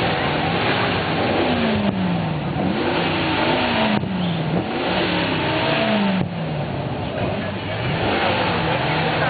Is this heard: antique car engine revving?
yes